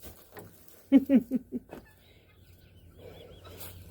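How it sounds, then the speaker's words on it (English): Backyard chickens cluck in a quick burst of four or five loud, close clucks, then fade to soft low murmurs and faint rustling. "Just a short little clip of the chicky birds."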